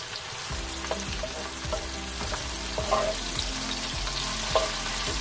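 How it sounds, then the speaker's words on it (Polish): Steady sizzle of zucchini and tomatoes frying in a pan with occasional stirring clinks and scrapes, close and continuous, no talking. "Jeszcze chwilę wszystko smażymy."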